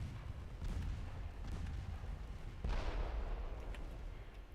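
Naval guns boom repeatedly in a chaotic sea battle in Ultimate Admiral Dreadnoughts, with heavy rumbling blasts and a stronger salvo about midway through, the dense low roar of gunfire running continuously throughout.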